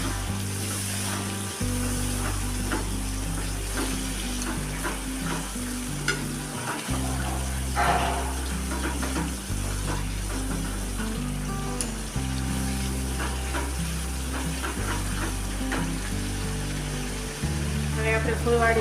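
Tomato puree sizzles and fries in hot oil while being mixed with a spoon for an onion sabzi, a steady crackling hiss with scraping stirs, under a continuous low musical backing.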